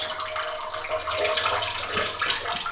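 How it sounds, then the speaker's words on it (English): A steady stream of liquid splashing into toilet water in a staged prison cell bathroom, continuous and fairly close for the whole stretch with no talk over it. "now he's peeing in the toilet"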